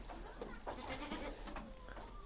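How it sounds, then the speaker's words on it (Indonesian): Rambon goats bleat several times at a farm pen, short wavering calls overlapping at moderate distance above a low steady background hum. "kalau model kambing ini namanya kambing Rambon"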